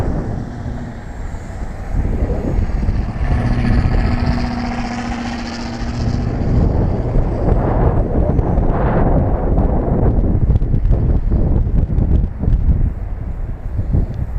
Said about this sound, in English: That's some wind right there. Oh my God. Serious wind.